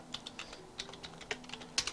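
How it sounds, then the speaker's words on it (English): Rapid keystrokes on a computer keyboard entering a cheat command in the game Fate, about a dozen crisp clicks in an uneven burst, close and fairly quiet, with no voices. "I can type in Ctrl+Shift tilde,"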